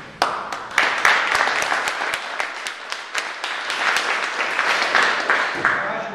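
Troops give a crowd of applause with sharp, crisp claps, swelling and rolling steadily, close and lively, with voices mixed underneath.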